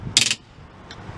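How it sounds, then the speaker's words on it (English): The torque limiter on a car roof box mounting screw clicks as it's tightened: a crisp burst of rapid ratcheting clicks, then one fainter click a moment later, close and alone. "Tighten this screw until you hear a clicking sound like this."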